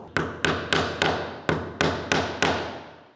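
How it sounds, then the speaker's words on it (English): T-nuts hammered into wooden drawer jambs for a Land Cruiser 250 drawer system: eight sharp, ringing hammer blows at a steady rhythm, each decaying quickly, close and loud with no talk. "these ones will also get pounded in."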